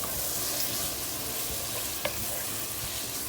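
Vegetables for a quick spaghetti sauce sauté in a pan with a steady, close sizzle and a brief utensil tap midway, no talking.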